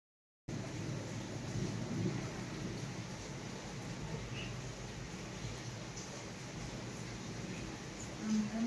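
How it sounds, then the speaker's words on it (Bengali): Heavy monsoon downpour outside, a dense continuous roar of rain with low rumbling thunder underneath, steady and enveloping from start to end. "বাইরে প্রচণ্ড মুষলধারে বৃষ্টি শুরু হয়ে গেছে"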